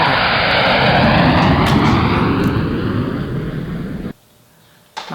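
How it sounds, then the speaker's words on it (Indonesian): A fixed-wing airplane passes overhead with a loud, steady engine roar that fills the scene for about four seconds, then cuts off abruptly into near silence before a brief burst of noise returns. "Kalian denger nggak pesawat ya?"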